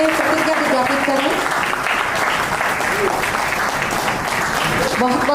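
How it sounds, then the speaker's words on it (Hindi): Loud, sustained applause from an audience at a textile company alumni meet in a hall, dense clapping filling the space without a break. "जोरदार तालियों से एक बार अभिवादन करें,"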